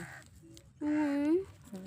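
A chicken in a village yard gives one clear, mid-loud cluck or call lasting about half a second, with quieter background noise and faint sounds before and after.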